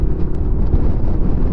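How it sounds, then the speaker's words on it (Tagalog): Strong wind buffets the microphone in a steady, loud, low roar on the road toward Malalison Island in Culasi, Antique, with no pauses and no voices. "Mas na nga hangin."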